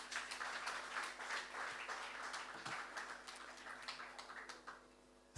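Audience applause in a conference hall at a development bank report launch, many hands clapping at moderate level that thins and tapers off toward the end.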